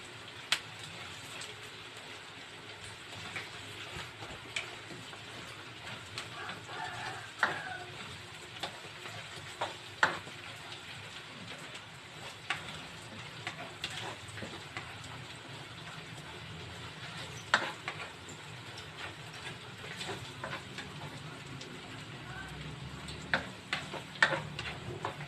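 Onions sautéing and wilting in a pan for igado make a steady, rain-like crackling sizzle with scattered sharper pops, heard close and continuous for about twenty-five seconds without speech.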